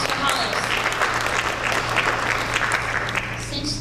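Audience applause at a Hunt County GOP Republican primary debate, a dense steady clatter of clapping from a crowd filling the whole stretch at even loudness, with a low hum underneath.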